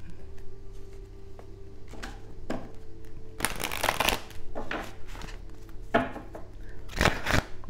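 Tarot cards being shuffled by hand during a reading, with repeated riffling bursts of papery flutter and light slaps, close and fairly loud, with quieter card handling in between.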